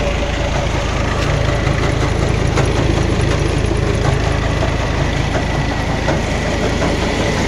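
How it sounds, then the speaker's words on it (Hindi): A tractor engine idles at a new tube well boring site, a steady heavy low rumble with a faint knocking pulse that holds throughout with no speech. "आ ट्रैक्टर है जी"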